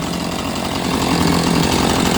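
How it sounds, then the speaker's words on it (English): A Husqvarna-style E450 Rancher chainsaw with an 18-inch bar runs at high revs, a loud, steady, buzzing engine roar held close for the whole stretch. "Good chainsaw."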